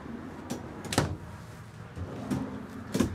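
Drawers in the living quarters of a 2023 Logan Coach Select 814 four-horse trailer slide open and shut, giving a few short knocks and rolling scrapes close by over quiet room tone.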